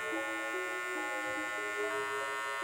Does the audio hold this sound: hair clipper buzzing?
yes